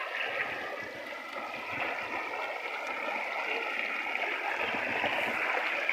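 A spring-fed stream flows along a channel near a village, its steady close-up rush and gurgle holding level throughout, with no voices.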